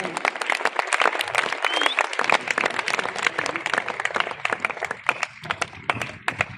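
An audience applauds continuously at a school last-bell ceremony in Quvasoy, with dense, steady clapping lasting the whole stretch.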